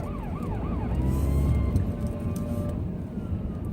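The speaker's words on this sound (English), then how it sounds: "there's an emergency vehicle coming" An emergency vehicle siren wails past on a road, a rising and falling two-tone sweep that starts fairly close and fades beneath steady traffic rumble, with no talking.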